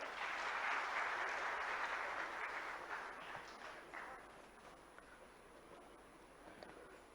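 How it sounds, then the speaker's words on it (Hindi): Audience applause welcoming an official at a government festival event in Bhopal, a broad steady clapping from a large crowd that is loudest at the start and gradually fades, heard at a distance with no talk over it. "आपसे अनुरोध करूंगी जोरदार तालियों से उनका स्वागत करें।"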